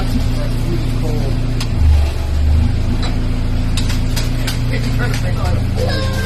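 A car engine idles steadily up close, with a brief low swell near the start before settling into an even hum, heard alone.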